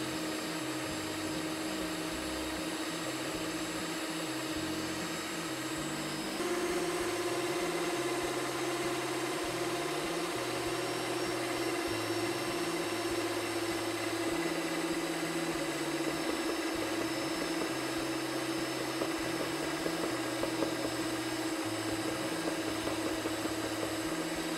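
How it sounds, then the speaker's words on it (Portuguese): An electric hand mixer drones steadily at close range while beating Indian cake batter made with breadcrumbs, a continuous motor whine that rises slightly partway through and carries on without talk. "Com a batedeira ligada. Vamos lá, bater por 2 minutinhos."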